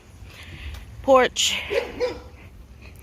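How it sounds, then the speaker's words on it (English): A big dog barks from inside a car in front of a house with a tuck-under garage, giving a short burst of barks and yelps heard close outdoors, with people talking. "Big dog in a car barking at me."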